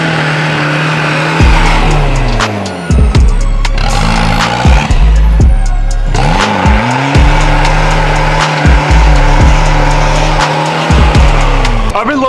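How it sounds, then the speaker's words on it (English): Car tires squealing loudly during drifting and burnouts, with long sustained screeches, engine revving and repeated wheelspin bursts over about twelve seconds. "I really want to try to Tokyo drift this thing."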